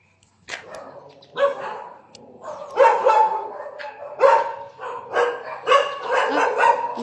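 Dogs at Casa Mira in Linao, Lipata, Minglanilla, Cebu bark repeatedly and loudly nearby during an early morning walk, the barks coming in a rapid, overlapping series of excited bursts.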